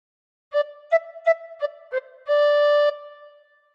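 A bright, breathy tin whistle plays a phrase of Oh Susanna: five quick separate notes, then a longer held note that fades out.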